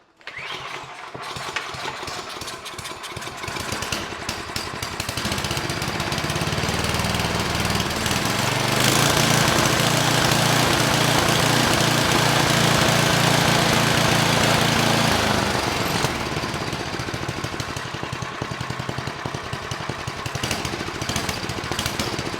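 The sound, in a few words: Tecumseh snow thrower engine running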